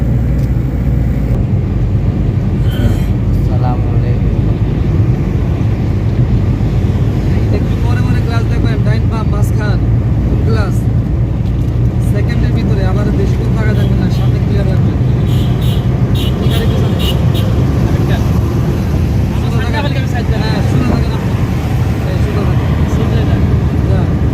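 Steady road roar and engine drone from a vehicle cruising on the Dhaka–Chittagong highway, a continuous loud rumble with wind noise and occasional passing swells, and a voice talking over it at times.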